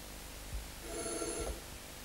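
A telephone rings once with an incoming call on a 1990 Italian television broadcast, a short electronic bell tone heard faintly over low room noise.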